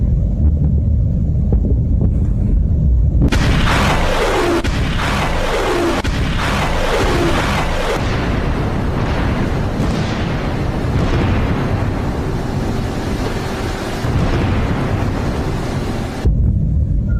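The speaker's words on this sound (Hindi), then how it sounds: "धमाके सुनिए।" Missile attack explosions: heavy, booming blasts and rumbling roar, with several deep thuds and descending whooshes, loud and continuous, buffeted by strong wind noise.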